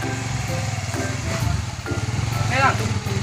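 A motorcycle engine ticks over close by with a steady pulsing putter, under overlapping talk from people nearby.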